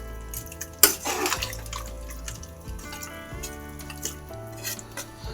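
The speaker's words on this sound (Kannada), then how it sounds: "ಇನ್ನು ಸ್ವಲ್ಪ ಇನ್ನೂ ಒಂದು ಕಾಲು ಲೀಟ್ರ್ ಅಷ್ಟು ನೀರು ಹಾಕ್ತೀನಿ" Water splashes and drips into a pressure cooker of chicken curry, with one sharp slosh early on, then intermittent trickles and faint clinks close by.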